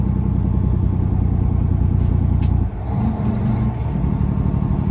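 Volvo truck descending a steep West Virginia mountain grade in low gear, its engine droning loud and steady throughout, with a brief dip in the middle and no talk.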